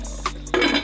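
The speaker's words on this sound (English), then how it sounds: "So I'm gonna cover the pot." A lid set onto a cooking pot of seasoned liquid simmering on the stove gives a couple of quick, light clinks and then a brief rattle, close and fairly soft.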